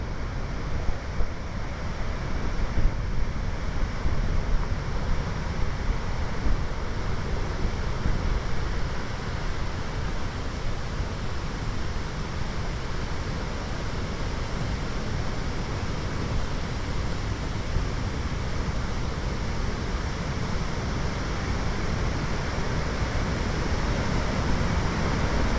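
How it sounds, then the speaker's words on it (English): Rushing water at Devil's Pool, Babinda Boulders in Far North Queensland, a loud steady broadband roar that continues unbroken throughout, with no voices. "Wow, you hear that sound of that water."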